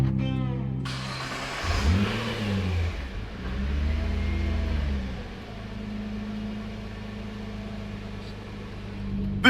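A rebuilt Nissan GTR engine cranks and fires, then revs up and down in a couple of loud swells before settling into a steady, humming idle, close and with no talk.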